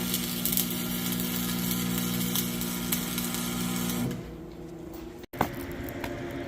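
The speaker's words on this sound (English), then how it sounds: "He's getting it welded up." A part for a disc is welded, a steady, close electric buzz that holds for about four seconds and then cuts off, leaving a quieter background and a brief clunk.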